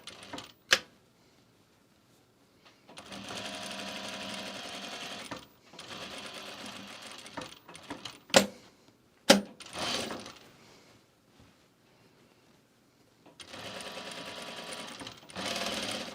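A sewing machine stitches fabric in several loud mechanical bursts of a few seconds each, broken by quiet pauses and a couple of sharp clunks in between.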